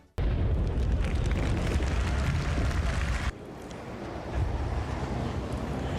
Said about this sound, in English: the explosions with the rolling shockwave before the actual blast hits you